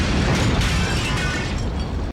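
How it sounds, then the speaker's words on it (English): A powerful grenade blast from the film Robocop fills the clip: a loud, dense explosion with a heavy rumbling roar that holds steady for about two seconds before cutting off sharply. "That was a powerful grenade."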